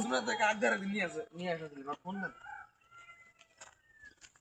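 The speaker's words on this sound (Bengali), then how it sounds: "ওই যে মুরগিতে ডাকে ওইদিকে।" A rooster crows at a rural farm, a drawn-out call rising and falling in pitch, loud and fairly close, with a second fainter crow trailing after.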